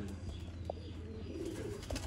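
Pigeon coos from a gulab-sira (rose-headed) fancy pigeon, two soft low hoots standing out over a steady low background rumble, with no talking.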